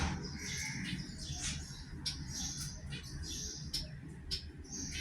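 Medium ground finch and white finch chirping, quick high tweets in repeated short bursts, near and fairly faint over a soft background rumble.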